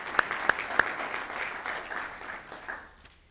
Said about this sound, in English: You want to clap for them?